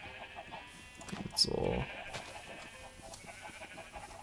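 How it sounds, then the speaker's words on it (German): Sheep bleating in the Minecraft video game, a single short game bleat rising briefly over background game sounds and a quiet spoken voice. "dabei fressen die Schafe hier die ganze Zeit"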